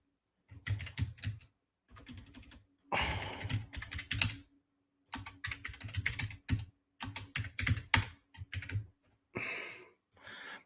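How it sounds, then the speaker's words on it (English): Bursts of rapid typing on a computer keyboard, close and crisp, separated by short pauses. "Typing in another."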